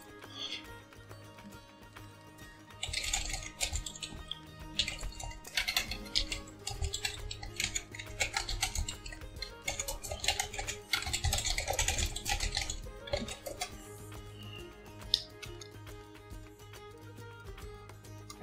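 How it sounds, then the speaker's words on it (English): Rapid typing on a computer keyboard, with bursts of clicking keys that come and go over a faint background hum and stop near the end. "I hear so much typing and like nothing else"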